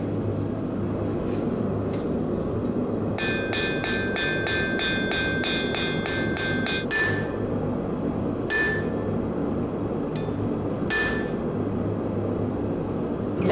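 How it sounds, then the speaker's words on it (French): A hammer shapes a metal sheet to raise vein-like texture, striking in a quick run of about a dozen ringing metallic taps, then a few scattered blows, over a constant low hum. "après, je prends mon marteau pour faire des..."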